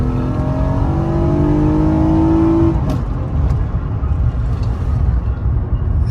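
An Acura TLS fitted with an EndlessRPM part accelerates hard, its engine whine climbing steadily in pitch and then cutting off, followed by steady road and engine rumble.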